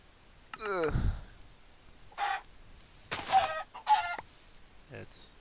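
Minecraft chickens cluck in a handful of short, separate bursts, close and fairly loud, with quiet gaps between them and no talking.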